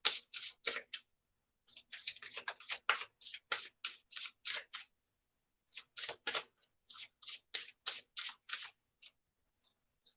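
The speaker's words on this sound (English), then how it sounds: "I was going to shuffle and let whatever cards come out" Brisk bursts of tarot card shuffling in several runs, crisp riffling flutters separated by short pauses, close by with no talking.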